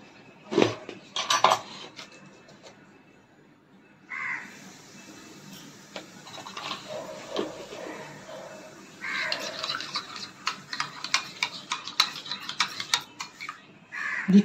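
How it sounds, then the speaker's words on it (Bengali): Yogurt whisked with a little salt in a bowl gives irregular clicking and scraping taps of utensil against bowl, sometimes in quick bursts and sometimes sparse, fairly close and moderately quiet. "দইটাকে আমি ভালো করে ফেটিয়ে নিচ্ছি।"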